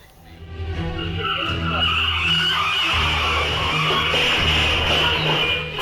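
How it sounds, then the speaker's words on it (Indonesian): A speeding minibus crashes into an electric pole on a bumpy road in Bojonegoro, East Java, captured on CCTV: a loud, steady vehicle roar with a tire-skidding screech and a couple of sharp knocks. "Minibus yang sedang melaju kencang tiba-tiba menabrak tiang listrik di Bojonegoro, Jawa Timur."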